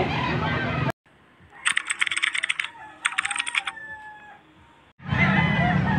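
Chickens and roosters at a Saturday poultry market in Bocaue, Pampanga, giving short bursts of crowing and clucking in the middle, with louder broadband noise at the start and end.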